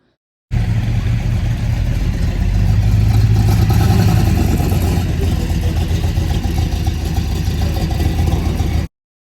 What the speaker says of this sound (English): This is even more rare, a Allard J2 Competition. It raced a few times in the SCCA, and it makes one hell of a noise.